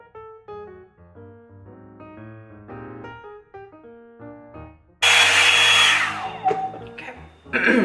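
A Revlon One Step hair dryer and volumizer switches on partway through with a loud, steady broadband roar that continues to the end, following several seconds of quieter tonal music-like sounds.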